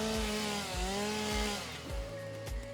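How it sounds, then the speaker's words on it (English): A chainsaw cutting in the video game Satisfactory, a loud droning engine whine that rises and dips in pitch, with repeated heavy chopping thuds about every half second and no speech. "when you use your chainsaw, make sure you got lots of stuff around you"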